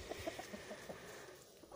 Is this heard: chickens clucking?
yes